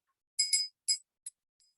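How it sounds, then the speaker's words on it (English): A small bell rings in a few quick, bright strikes: two close together, a third, then a lighter tap and a faint ringing tail, alone in silence. "even that little bell sound is making a vibration"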